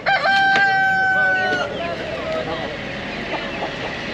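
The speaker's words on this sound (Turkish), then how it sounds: "Burası Kastamonu Taşköprü Tavuk Pazarı arkadaşlar, bakın." At a poultry market in Taşköprü, Kastamonu, a rooster lets out a loud, close crow lasting about a second and a half, followed by fainter clucking and crowd bustle.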